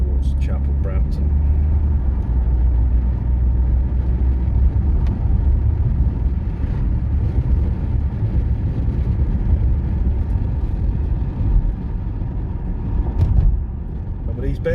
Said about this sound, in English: Just driving up now towards Chapel Brampton.